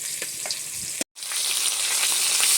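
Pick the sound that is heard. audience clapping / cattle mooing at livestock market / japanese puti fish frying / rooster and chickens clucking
japanese puti fish frying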